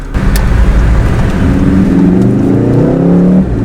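A Volkswagen Golf R accelerating briskly from inside the cabin, engine note rising steadily in pitch over a few seconds with a deep rumble underneath, then easing off at the end.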